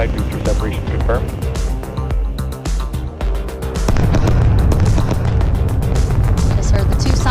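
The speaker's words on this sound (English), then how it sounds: "Just heard the two sonic booms here in the room." Two deep, rumbling booms from returning rocket side boosters breaking the sound barrier roll through the room beneath excited voices and chatter, followed by a sustained low roar.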